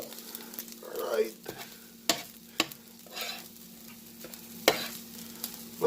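Fried rice with jerk chicken sizzles steadily in a pan while a utensil turns it, with sharp scraping clacks every second or so and soft background voices.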